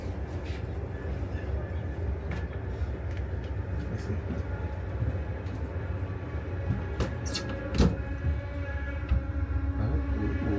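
Amtrak Southwest Chief passenger train rolling into the Barstow, California station, heard from onboard as a steady low rumble and hum with occasional clanks and squeaks midway.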